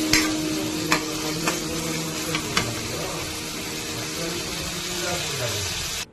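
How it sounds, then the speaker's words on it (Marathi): Tomatoes with curry leaves fry in hot oil in a kadhai for a Malvani drumstick-and-potato bhaji, giving a steady close sizzle with a few sharp clicks of stirring. "टोमॅटो व्यवस्थित गरम होऊ द्या. फ्राय होऊ द्या आतमध्ये तेलात."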